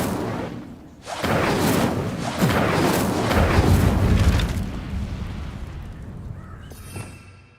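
A fire spell is cast in the game Hogwarts Legacy: a sudden loud burst of flame erupts into a roaring, crackling blast that holds for several seconds before fading away.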